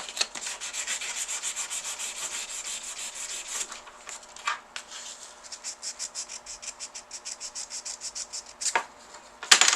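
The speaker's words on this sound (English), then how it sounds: "we're just going to sand it off" Close, steady rasping strokes of sanding rust off a part of a 1963 Royal FP typewriter, quick rhythmic rubs in bursts with short pauses, alone without talk.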